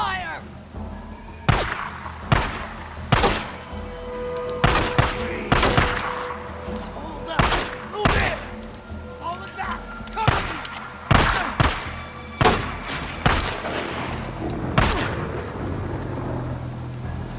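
Gunfire in a Days Gone firefight: a long run of sharp, punchy shots, roughly one every second or so, some doubled, cracking loudly over a steady rumbling background with occasional shouting voices in between.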